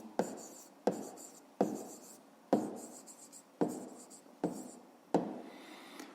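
Numbers being written by hand for a fifth-grade math exercise, seven distinct pen strokes tapping and scratching on paper in a steady rhythm, close and quiet, with no talking.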